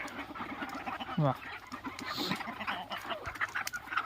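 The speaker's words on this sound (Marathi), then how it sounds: "हे बघा कशा आपल्या कोंबड्या" Free-range country chickens on a farm with wheat fields cluck and squawk close by, several birds calling irregularly over a soft outdoor background, with a brief voice among them.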